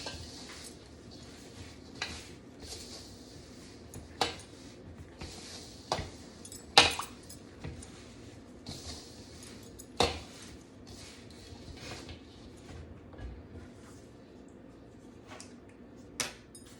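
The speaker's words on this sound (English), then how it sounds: "So let's start to mix it together." Chocolate sugar cookie dough is mixed by hand in a bowl without a mixer, quiet soft working sounds punctuated by a few sharp clinks of a utensil against the bowl at irregular intervals.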